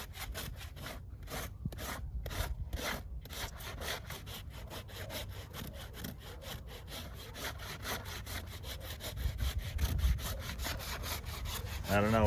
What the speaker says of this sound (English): You'd never used one of these rasps.